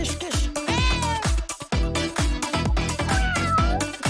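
A cat meows repeatedly at close range, several drawn-out, insistent calls in quick succession with no talking.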